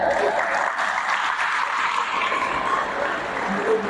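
Sustained audience applause at a Spanish-language Catholic catechesis talk, a dense wash of clapping hands filling the whole stretch at moderate loudness.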